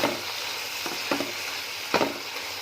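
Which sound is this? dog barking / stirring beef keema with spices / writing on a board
stirring beef keema with spices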